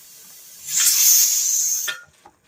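Steam hisses loudly from a pressure canner venting while green beans are being canned, a steady broad rush lasting over a second before cutting off, followed by faint clicks.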